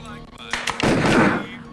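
Gunfire from the DOS adventure game Harvester: a couple of sharp cracks followed by a louder burst of blasts echoing for about a second, filling the clip without talk.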